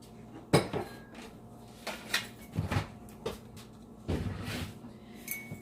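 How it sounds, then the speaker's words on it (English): A spoon stirs one cup of milk in a pan over low heat for a homemade tuna casserole, giving several separate scraping clinks against the metal, close and fairly quiet with pauses between strokes. "Give it a nice stir."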